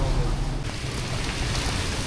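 Light rain falls steadily during a rainy day in Vietnam, a soft, even hiss with no distinct drops standing out.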